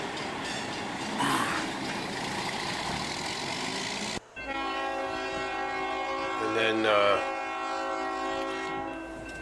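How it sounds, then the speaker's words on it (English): A freight train rumbles past with a sustained horn blast ringing out in steady tones, fairly loud and close, with a brief voice at the start. "this was a train traveled through my town, so I chased it down"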